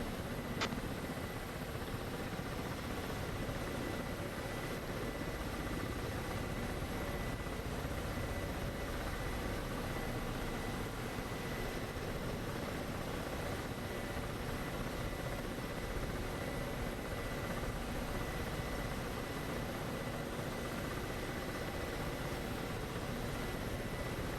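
Ka-50 coaxial helicopter in the DCS flight simulator, a steady dense rotor and engine roar held at constant loudness throughout with no voices.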